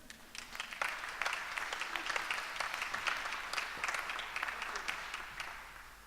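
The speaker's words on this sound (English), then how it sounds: "Oh, that deserves a round of applause." Church congregation in Croydon clapping in applause, a fairly faint, even patter of many hands that swells in and holds for several seconds before easing.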